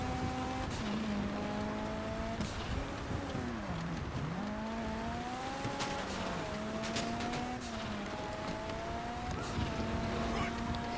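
A Kuruma car in GTA 5 drives with a steady engine drone whose pitch rises and dips as it shifts and slows through turns, with tire noise underneath and a voice talking over it.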